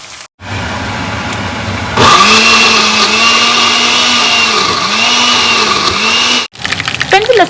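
Kitchen blender grinding green chillies for aloo methi, a loud whining motor that revs up and holds a steady pitched drone with slight surging, stopping abruptly before a brief clatter at the end.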